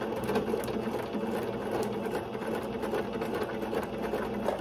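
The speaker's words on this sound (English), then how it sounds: "We're going to start sewing" A sewing machine hums and whirs steadily up close, running a straight seam on ruffled tutu socks without a break.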